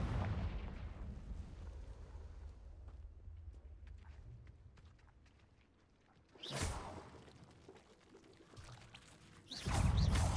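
A Confringo blasting spell cast in Hogwarts Legacy, heard as a sudden loud fiery whoosh-burst around the middle, followed by a second strong blast near the end over a low rumbling game ambience.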